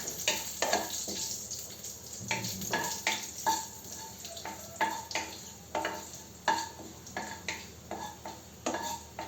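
Cumin seeds frying in hot oil in a pan for broccoli curry: a continuous close sizzle broken by regular scraping strokes of a spoon against the pan, with no voices.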